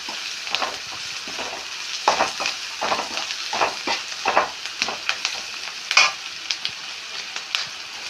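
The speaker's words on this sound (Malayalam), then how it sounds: "അപ്പോൾ ഇതൊന്ന് ഫ്രൈ ആവട്ടെ" Onion and okra masala fries in a pan with a steady close sizzle, broken by repeated scraping stir strokes that come in uneven bursts, and no voices.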